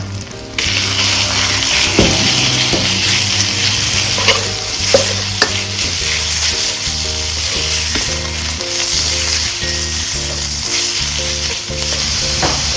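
Minced pork stir-fried in a hot pan, with loud continuous sizzling and rhythmic scraping of the spatula throughout, close up and with no voices.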